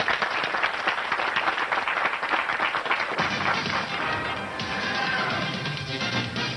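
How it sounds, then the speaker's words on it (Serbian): A studio audience claps enthusiastically to welcome young musicians on a television talk show, producing dense, sustained applause with steady close hand claps throughout. "vas molim za jedan veliki aplauz da pozdravite naše buduće mlade muzičare"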